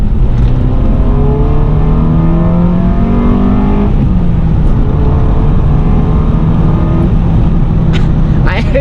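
Engine of a 7th-generation Honda Civic Si (EP3) revving, a loud, continuous gritty drone whose pitch holds steady then drops and settles, with a brief higher rise near the end.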